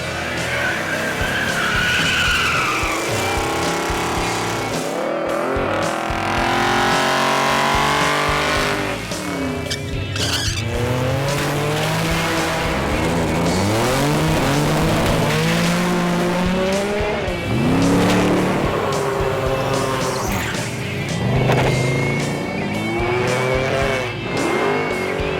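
Buick cars, including a 1973 Buick Century, racing on a drag strip, with loud sustained tire squeal and skidding over roaring engines that rise and fall in pitch, near and continuous.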